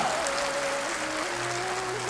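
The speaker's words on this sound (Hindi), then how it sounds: "मैं चाहूंगा आप अपने लिए एक बार जबरदस्त तालियां बजा रहे हैं" Audience in a hall breaks into steady, sustained applause, a dense wash of clapping holding evenly throughout, with a faint tonal hum running underneath.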